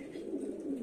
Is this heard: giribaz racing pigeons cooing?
yes